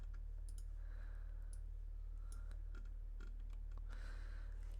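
Typing on an Atari computer keyboard: scattered, faint key clicks in small bursts, heard over a constant low electrical hum.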